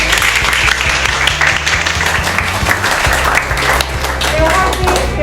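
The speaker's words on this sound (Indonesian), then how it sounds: "Ayo kita berikan tepuk tangan." Students in an Indonesian mathematics class clap together for a classmate's answer, loud and close, with dense rapid claps throughout and some chatter under it.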